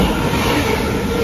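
A Northern passenger service from Manchester Airport to Blackpool North passes through Gatley station, making a loud, close, steady rumble of wheels on rails throughout the short moment.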